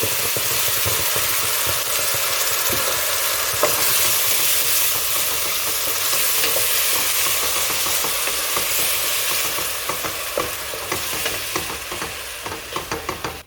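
Curry paste frying and being stirred in hot oil with star anise and curry leaves for a Malaysian mamak chicken curry, a steady loud sizzle with scraping stir strokes throughout.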